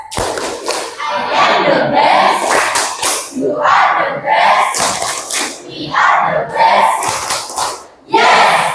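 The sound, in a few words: class clapping and chanting together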